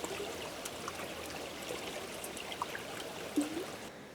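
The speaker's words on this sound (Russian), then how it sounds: "Остановился у ручья воды набрать." A small taiga stream flowing beside a river, a steady close burble of running water with faint trickles and a brief splash near the end, no talk.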